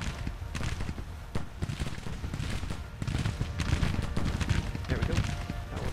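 Infantry muskets fire in a Civil War video game, a dense crackle of overlapping shots running through the whole stretch over a low rumble, with a voice talking on top.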